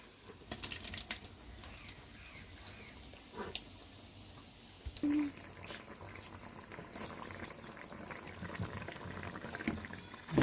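Tomato and onion gravy going into a simmering chicken curry, with a steady close bubbling and liquid churning throughout, a few sharper splashes and clicks on top, and no voices.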